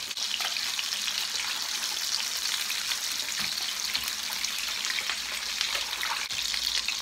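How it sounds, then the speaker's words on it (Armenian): Fish sizzles steadily in a hot frying pan, a constant crackling hiss with small pops throughout, no voices. "ուրեմն այստեղ տապակվում է ձուկը"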